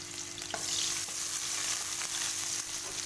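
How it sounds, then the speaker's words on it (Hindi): Finely chopped medium onion fries gently over low heat in a pan for an egg snack, a soft, even sizzle with light stirring scrapes, close and continuous, with no talking. "हल्का सा इसको फ्राई करना है, ज़्यादा तेज़ फ्राई इसको नहीं करना।"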